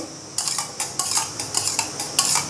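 A spoon scrapes and clinks rhythmically against a metal pot while onions are stirred together with yogurt and salt, about eight brisk, close strokes in quick succession with a faint background hum.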